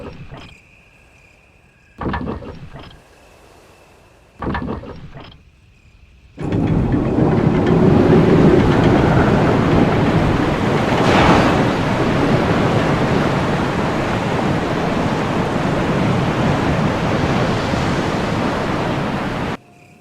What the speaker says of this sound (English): You can hear the sound of the waterfall in the distance.